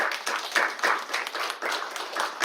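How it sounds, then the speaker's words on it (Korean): A church congregation at a Sunday New Year worship service claps for the students attending, a moderate room-filling applause with uneven swells, with no talk over it. "우리 학생들 우리 박수 한번 할까요?"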